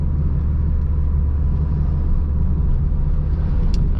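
Car engine droning in third gear at around 40 km/h, heard from inside the cabin as a loud, steady low rumble with no talking.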